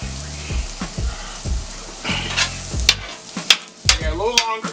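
Onions sizzle and crackle in a hot pan for a steak sandwich, with bursts of stirring and scraping against the pan, steady frying hiss close by and no talk.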